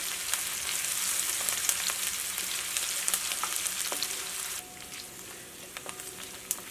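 Onions with ginger and garlic sauté in oil for an egg curry, producing a continuous close sizzle with scattered crackles that softens partway through, with no talking.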